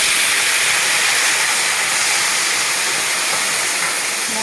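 Spice masala fried with Kashmiri chilli powder hisses and sizzles loudly and steadily right after water is added to the pan.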